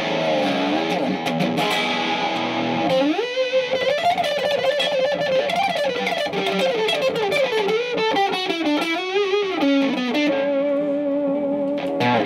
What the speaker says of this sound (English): That's a pedal by Monkey Effects. It's just overdrive distortion.